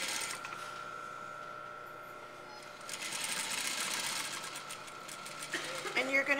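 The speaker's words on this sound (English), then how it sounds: "sure that you're sewing a 1/2 inch seam allowance at each of the shoulder seams" A sewing machine runs in bursts while stitching a blouse shoulder seam, a fast rattling hum rising midway, with someone talking over it.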